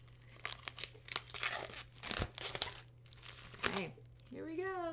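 Plastic wrapping is crinkled and torn off a brand new journal in bursts of rustling and crackling, close and fairly quiet, with a person speaking briefly near the end.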